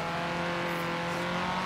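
An Ariel Atom in Forza Horizon 3 revs under acceleration with a steady, buzzing engine drone whose harmonics hold level, loud and close for a brief moment.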